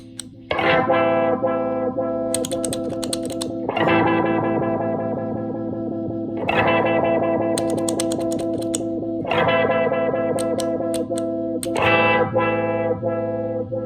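Electric guitar chords ring out through a swirling, distorted EHX Mod11 modulation pedal, tempo set by a Walrus Audio Monument tap tempo, strummed in repeated phrases every few seconds with a pulsing, wavering sustain.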